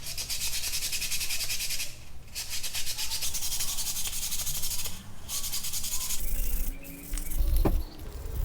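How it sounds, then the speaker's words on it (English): Brake rotor from an Alfa Romeo Giulia being hand-sanded with 3000 grit sandpaper after a spray of WD-40, a steady close scratchy rubbing with short pauses and a few light knocks near the end. "use some 3000 grit sanding paper to try to smooth these back out."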